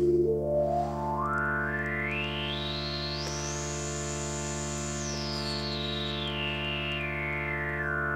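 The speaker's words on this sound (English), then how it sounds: "I can use the filter knob over here to put an additional sine wave." A Thor synthesizer in Reason plays a sustained tone whose filter resonance adds a sine wave that sweeps steadily upward, holds high, then glides back down, steady and alone with no voices.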